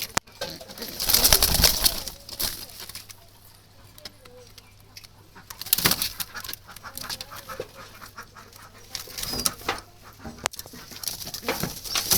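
Soft, low cooing of young pigeon chicks, faint and intermittent, with occasional bursts of rustling and fluttering noise close by.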